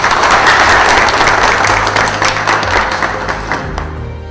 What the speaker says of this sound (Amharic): ሁላችሁ ከፍተኛ ጭብጨባ ታደርጋላችሁ ለአብይ አህመድ